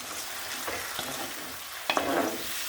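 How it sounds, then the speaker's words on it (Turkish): Rice sautés in a hot pan with a lemon squeeze nearby, a soft steady sizzle under light scraping stirs and a sharper scrape near the end, close and quiet with no talking. "pirincimi kavuruyorum"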